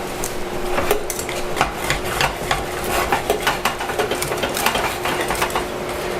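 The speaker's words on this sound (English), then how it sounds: "Whisk this up." A whisk beats a sauce with a heaping spoon of sour cream in a pan, quick rhythmic metallic clicks and scrapes repeating steadily, close and fairly loud with no talking.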